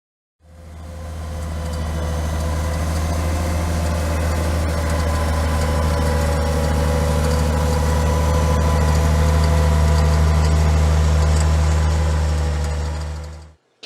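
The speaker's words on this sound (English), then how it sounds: "Can you find the tractor?" A farm tractor's engine idles for about fourteen seconds, a steady low rumbling drone with a constant vibrating hum that holds at an even, fairly loud level throughout.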